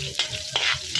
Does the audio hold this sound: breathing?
no